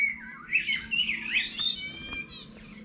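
A black talking bird squawks and chatters in a rapid run of harsh, warbling calls, fairly close, followed by a few shorter chirps.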